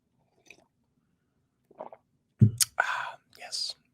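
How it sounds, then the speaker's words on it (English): A close, wet slurp right at the microphone, several short sipping and sucking bursts in a quiet room with no talking. "Sorry for the slurp."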